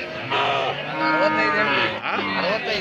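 A Hallikar cow moos loudly and close by at a cattle fair, a long drawn-out low call repeated amid the murmur of a crowd talking in the background.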